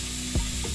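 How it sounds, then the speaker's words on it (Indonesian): Shredded chicken and garlic frying in hot oil in a pan give a steady sizzle with a brief stirring clatter in the middle. "siapkan minyak, kemudian tumis bawang putih secukupnya"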